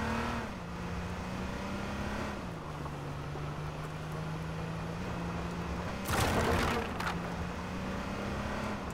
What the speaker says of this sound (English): I'm driving over to you in this cop car